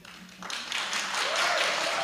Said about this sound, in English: If everyone could please refrain from clapping, like jazz hands we prefer.